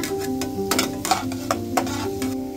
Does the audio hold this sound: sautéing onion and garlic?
yes